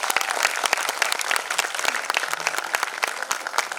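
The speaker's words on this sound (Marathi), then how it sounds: "त्यांच्यासाठी एकदा जोरदार टाळ्या" A large audience claps steadily and loudly at a supermodel pageant show, a dense, continuous wash of many hands with scattered sharper claps throughout.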